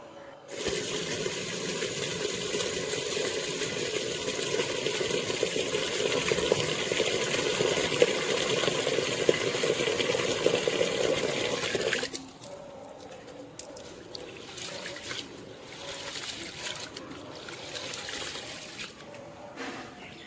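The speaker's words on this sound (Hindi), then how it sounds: "यहाँ मैंने गेहूँ को 3 बार वॉश करा है अच्छे से।" Wheat grains being washed by hand in water, a continuous swishing, sloshing rub of grain and liquid for about twelve seconds, then quieter intermittent splashes and trickles.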